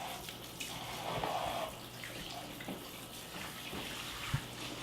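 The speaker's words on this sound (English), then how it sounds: "I'm going to rinse my hands off." Tap water runs steadily as hands are rinsed at a kitchen sink during home cooking, a soft continuous hiss with a faint thud near the end and no talk.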